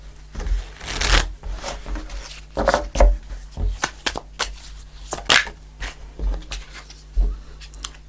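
Tarot cards being shuffled by hand at a table, a run of crisp riffling bursts and soft slaps repeating through the stretch, close and fairly loud with a low steady hum underneath.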